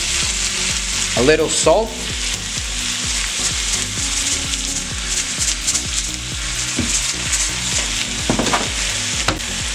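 Tomatoes sizzle steadily in a frying pan while salsa cooks for huevos rancheros, a constant bright hiss with occasional stirring scrapes; a voice speaks briefly over the cooking.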